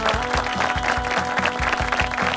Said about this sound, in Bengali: ওয়ান্স अगेन জোরে একটা করতালি চাই ফর সাকিব।